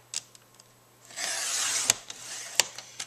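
A 2.5 inch paper strip being cut for a mini album, a sustained rasping slice through the sheet followed by a few sharp clicks and taps of the cutter, close and clear without talk.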